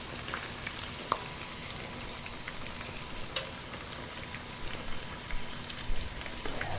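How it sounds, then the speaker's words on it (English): Spring rolls deep-frying in clean oil give a steady, dense sizzle, a continuous crackling hiss with occasional sharper pops, close and fairly loud with no talking. "These are sizzling up pretty good."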